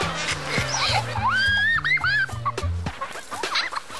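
Geese honk and cackle close by in the wet tropics, a busy run of nasal calls with rising tones, some overlapping, fading after about three seconds.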